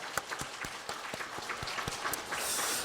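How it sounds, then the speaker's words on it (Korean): Church congregation clapping in thanks during a New Year worship service, scattered sharp claps building into fuller applause toward the end. "하나님 앞에 2003년 선물을 주신 하나님께 감사 박수 올려드립니다"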